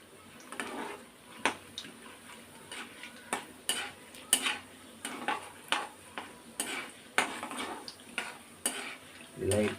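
Chana dal fried in oil in a pan while being stirred, with a steady soft sizzle and repeated scraping clinks of a spoon against the metal pan, close and clear, no talking.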